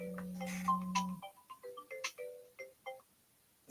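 An incoming-call ringtone on a phone plays alone and fairly close: a steady low buzzing tone gives way to a quick run of bright, melodic electronic notes that chime one after another, then the ringing cuts off.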